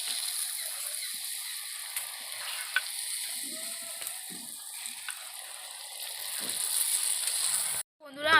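Phuchka shells deep-frying in hot oil until crisp give off a steady, close bubbling sizzle that runs throughout, with a brief clatter near the end as they are lifted out.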